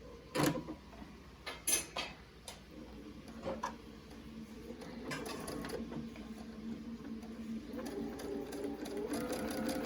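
Home sewing machine stitching a fabric face mask with its presser foot, starting after a few clicks of buttons and then running steadily with a close, continuous whir that builds over the second half.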